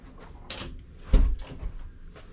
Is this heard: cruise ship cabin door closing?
yes